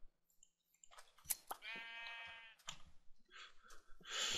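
Sheep in the Minecraft video game bleat in a clear, quavering call after a few soft clicks, with further clicks and brief scraping noises following, close and fairly quiet.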